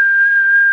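A single steady whistle tone is held into a CB radio mobile transceiver during transmit adjustment, loud and close, unbroken for under a second with no talking.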